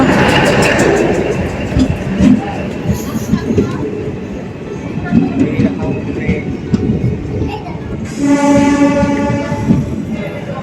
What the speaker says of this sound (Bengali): সেই কানকি ট্রেনটা কিন്তু চলে এসেছে